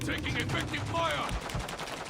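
Bursts of automatic gunfire crackle through a military video game firefight, with rapid cracking shots layered over a busy battle bed and some low thumps near the end.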